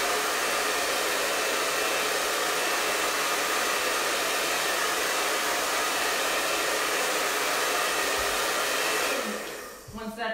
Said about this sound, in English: And I'm going to hit it again with my hairdryer to make sure it's flat to the surface of the dresser.